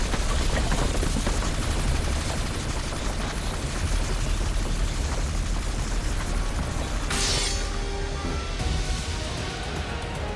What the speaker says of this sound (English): this machine gun is like one of those rotary ones here